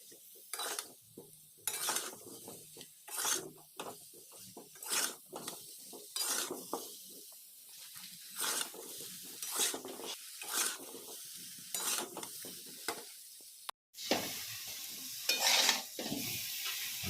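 Raw mango pieces frying with salt, turmeric and chilli powder for a mango pickle: repeated bursts of sizzling and stirring scrapes come in an irregular rhythm against a quiet background, with a brief break near the end.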